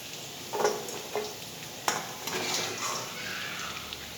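Carrots frying in a pan while being stirred, with a few close scraping strokes and clinks of a utensil over a steady, soft sizzle.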